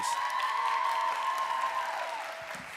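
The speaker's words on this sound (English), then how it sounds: "Can we give her a round of applause, please?" Audience applause at a graduation ceremony for a student speaker, fairly faint and distant, heard alongside a sustained tonal hum or ringing that fades out near the end.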